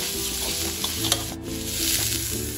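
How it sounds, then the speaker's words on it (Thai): Wild boar meat stir-fried in chili paste: a steady, loud, close sizzle with stirring scrapes against the pan, no talk. "ผัดจนหอมดีแล้วครับเราก็นำหมูป่าของเราใส่ลงไปเลยนะครับ"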